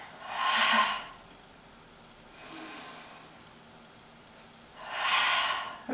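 Forceful breaths during a plank exercise: three close, airy exhalation bursts, the first and last strong and the middle one softer, with quiet pauses in between.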